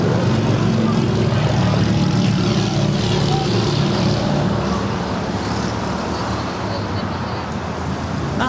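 Passenger jet taking off from runway 25 right at LAX, a loud steady broadband engine roar that holds strong throughout and eases only slightly toward the end, with faint traffic noise beneath.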